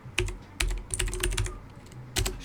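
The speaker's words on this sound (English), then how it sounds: "you have to simply type" Computer keyboard being typed on, close and clear: short bursts of crisp keystrokes with brief pauses between them, then a final cluster of clacks near the end.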